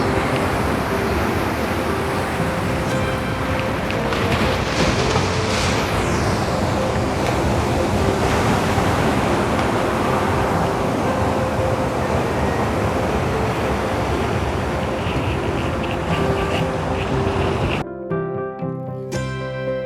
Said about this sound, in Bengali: আবারও ফিরে এসেছি এই সুন্দর সৈকতে এই সমুদ্রের গর্জনের মাঝে